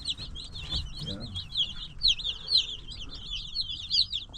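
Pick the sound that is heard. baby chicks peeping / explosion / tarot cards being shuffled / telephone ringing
baby chicks peeping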